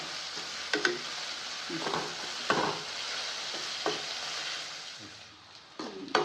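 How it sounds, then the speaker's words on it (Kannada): Onions fry in oil in a pan for upma, a steady close sizzle broken every second or so by the scrape and clatter of a spoon stirring them. "ಅಲ್ಲಿವರೆಗೂ ಆಯಿಲಲ್ಲಿ ಈರುಳ್ಳಿನ ಚೆನ್ನಾಗಿ ಫ್ರೈ ಮಾಡ್ಕೊಬೇಕು"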